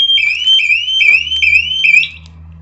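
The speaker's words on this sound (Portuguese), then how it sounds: "O alarme aqui tá disparando." A loud electronic alarm repeats rising, whooping tones about every half second, then cuts off near the end, leaving a low hum.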